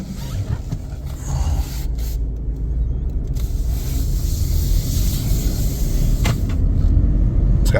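A 2020 Ford F150 XL 4WD regular cab long bed pickup with a 6-cylinder engine pulls away on a test drive, a steady loud low rumble of engine and road noise building as it gets moving, with no talking.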